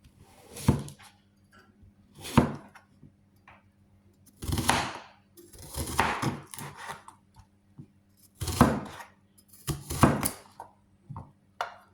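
A knife slices a large onion on a cutting board in irregular bursts of quick crunchy cuts separated by short pauses, close and clear with no talking.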